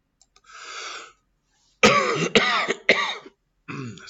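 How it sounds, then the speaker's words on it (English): A few harsh coughs in quick succession, close and loud, after a breathy throat sound, with quiet gaps between. "Still sick, so I apologize for coughing."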